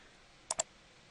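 Two quick, crisp clicks of a computer mouse sound close together against a quiet background.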